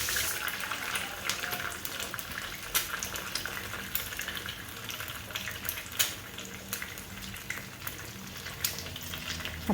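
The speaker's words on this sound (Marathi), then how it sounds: "तेल गरम झालं की लगेच आपल्याला त्यामध्ये एक अंडं फोडून टाकायचं आहे." An egg cracked into hot oil in a pan for a quick omelette sizzles and crackles steadily and loudly throughout, with a few sharper spits and pops.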